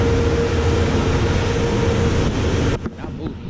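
Rumbling interior of a moving passenger train, a steady dense roar with a faint tonal hum that abruptly drops away near the end, leaving quieter knocks and rattles.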